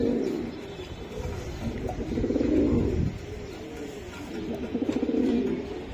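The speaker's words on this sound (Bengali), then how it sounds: "এই যে দেখেন দুইটা কবুতর ভাই" A pair of pigeons coos in repeated low, throaty phrases, close by and fairly soft, rising in three swells over a faint background hum.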